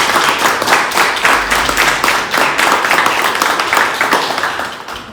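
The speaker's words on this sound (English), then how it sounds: "I think they deserve a round of applause." Wedding guests give a round of applause, a dense burst of many hands clapping at once, loud and close, holding steady for several seconds before thinning out at the end.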